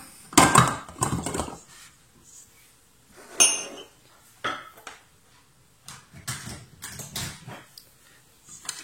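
A bowl of flour and water is set into a stand mixer with clattering knocks and clinks of ceramic and metal against the machine, in scattered near bursts.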